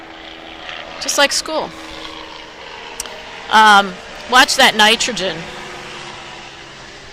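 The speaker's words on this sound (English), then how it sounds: "sorry about the helicopter noise here" A helicopter flies overhead during an indoor lecture, its engine a steady droning hum beneath a person's intermittent speech.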